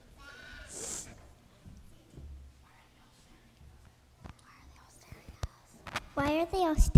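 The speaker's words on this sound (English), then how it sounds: "Your sheep are crying, give me the willies" Several sheep bleat nearby near the end, wavering cries overlapping, after a quieter stretch with scattered knocks and a soft whisper.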